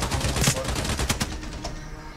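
Short, clipped bursts of automatic gunfire in the video game Sabotaj, several quick shots clustered close together at moderate loudness, fading toward the end.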